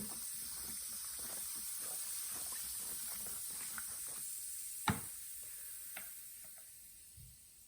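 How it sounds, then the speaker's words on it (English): Baking soda fizzing in a salt water cleaning solution makes a soft, steady hiss with scattered tiny crackles and ticks, plus one sharp click midway, close and quiet. "See, it's fizzing."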